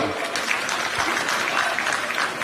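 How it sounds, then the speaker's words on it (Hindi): Crowd applause at the closing ceremony of the Chhattisgarh Nyay Yatra rally at Gandhi Maidan, Raipur: a dense, steady wash of many hands clapping, loud and sustained, with faint voices mixed in. "उनके लिए भी एक बार तालियां"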